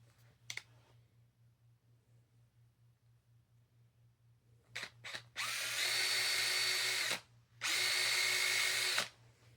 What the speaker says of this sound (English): Hey, look at that drill.